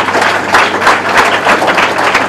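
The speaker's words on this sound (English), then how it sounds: "So please clap it up for Mr. John Narroway." Audience applause at a blockchain town hall, a steady broadband wash of many hands clapping at close-to-moderate distance, loud and continuous throughout without pause.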